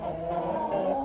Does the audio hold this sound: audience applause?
no